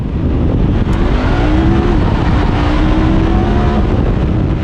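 A 2020 Honda Talon 1000R side-by-side tears across sand dunes at high speed, its engine roaring loud and continuous with rising revs over heavy wind and rumble.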